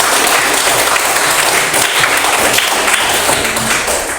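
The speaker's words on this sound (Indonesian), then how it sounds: "Mari kita beri tepuk tangan." Loud close applause from an audience at a teaching performance session, dense continuous clapping with some taps and thuds, steady throughout and tapering slightly at the end.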